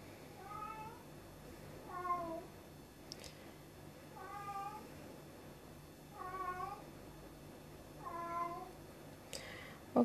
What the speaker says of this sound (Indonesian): Kalau kamu dengar suara kucing, abaikan aja.